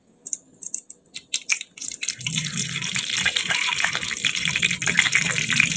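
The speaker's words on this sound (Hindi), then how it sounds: "सबसे पहले हम 1 कप ऑयल डालेंगे।" A cup of cooking oil is poured into a cooking pot for aloo chicken shorba. A few light clinks come first, then a continuous, close, gushing pour runs steadily to the end.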